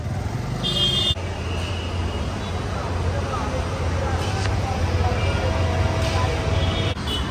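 City traffic in Dhaka, Bangladesh, a continuous rumble of cars and motorbikes close by, with background voices and brief higher tones, probably horns, cutting through now and then.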